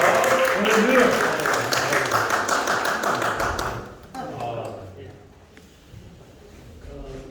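Applause for a church elder at an opening ceremony for a logistics center, a crowd clapping loudly for a few seconds before it fades and a voice speaks over the quieter room.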